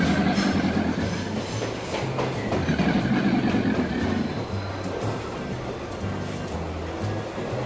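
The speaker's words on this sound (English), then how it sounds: "The door of the wagon is closed and the train continues its journey." A BRIO toy train rattles along its track with a steady rhythmic clatter and hum, continuous throughout.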